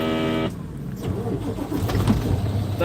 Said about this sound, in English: I'll start the truck for you in just a second